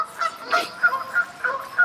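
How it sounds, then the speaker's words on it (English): Canada geese honk noisily near a carp fishing lake, a close series of repeated nasal calls in an uneven rhythm, heard alone without talk. "There's some Canada geese on here which are very noisy this time of year"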